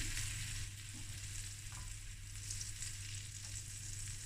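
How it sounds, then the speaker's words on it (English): About 60 to 70 grams of butter melts in a pan, sizzling and crackling with a soft, steady hiss throughout, quiet and close with no voices. "So this is about 60 to 70 grams of butter. It's melting in my pan."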